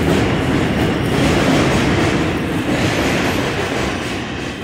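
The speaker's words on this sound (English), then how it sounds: "Hold on, let this train go by." A train rolls steadily past close by, a loud, continuous rumble and rattle of wheels and cars that holds its level for the whole stretch, with no voices.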